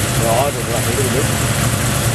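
A 1986 Jaguar fitted with a 350 small-block Chevy engine idles, a steady low rumbling exhaust burble heard from behind, loud and even, with someone talking over it.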